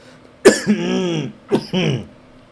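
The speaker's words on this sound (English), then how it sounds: "Random coughing" Two harsh, voiced coughs close to the microphone, each a sharp burst followed by a raspy tail, separated by about a second of quiet.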